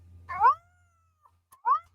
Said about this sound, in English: Because when Cat is purring, Cat is a happy, happy, happy girl.